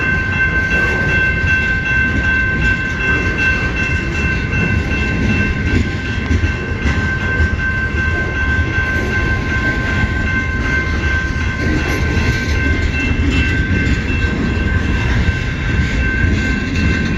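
A CN M33 southbound freight train rolls past near South Rockwood in heavy rain, a loud, continuous rumble of cars and wheels on rails with steady rattling, up close and unbroken throughout.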